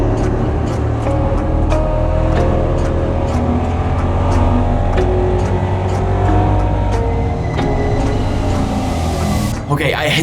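A EuroNASCAR race car engine at the Valencia circuit drones loud and steady throughout, with sustained revving and gear-change pulses, the engine sound continuous from near, under no speech.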